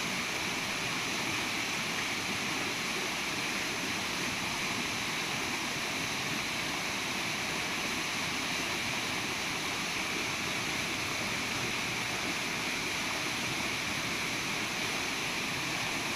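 Swollen forest stream surging after heavy rain upstream, a steady, broadband roar of rushing water, close and constant for the whole stretch with no voices over it.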